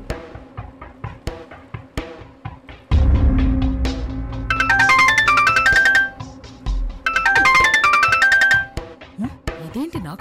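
An incoming-call phone ringtone in a Telugu TV serial episode, a loud melodic electronic tune playing in two long phrases over a low background rumble, with brief speech before and after it.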